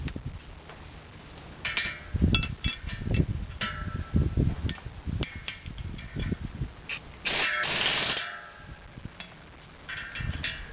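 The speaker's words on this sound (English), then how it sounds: "and our impact wrench again." An impact wrench with a 15/16 socket tightens a bolt on a Loftness mulcher replacement tooth, giving repeated bursts of rattling hammering with metallic clanks and pauses between them.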